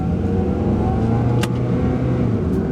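A 1995 Honda Accord LX economy sedan accelerates in first gear, its mid-pitched engine hum steady and loud from inside the cabin, without speech.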